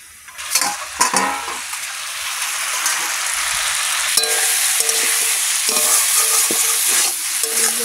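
Prawns with ridge gourd, potatoes and greens stirred in a hot pan, loud steady sizzling and frying close up, with a few scraping stirs near the start and no voices.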